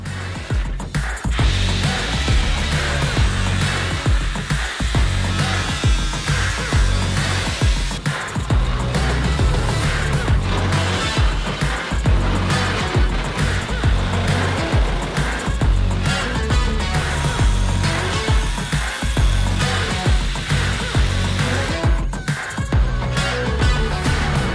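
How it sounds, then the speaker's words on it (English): A power tool cuts a window opening through the metal side wall of a school bus being converted into a skoolie, a loud, continuous grinding roar with brief dips and restarts as the cut goes on. "I'm cutting another hole in the side of this bus"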